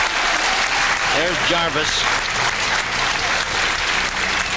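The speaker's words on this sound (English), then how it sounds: "And the crowd cheering both of these competitors on." A crowd at the 1995 World Pool Championship 8-ball match between Efren Reyes and Mark Jarvis applauds steadily, a dense sustained clapping with a commentator talking over it briefly.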